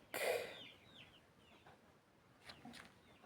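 A short burst of chicken clucking at the start, then quieter scattered clucks and calls from the fowl, fairly close.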